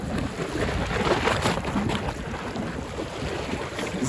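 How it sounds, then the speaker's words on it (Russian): Sea waves break against a rusty shoreline on the Black Sea coast at Divnomorskoye, a continuous rushing wash of surf mixed with gusty wind buffeting the microphone, steady and fairly close with no voices. "Слушайте, как море бьет."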